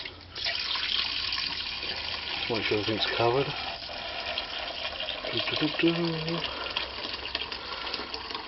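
Warm kettle water gushes over carburettor parts from a ride-on mower, a steady pouring splash that runs continuously while someone talks over it.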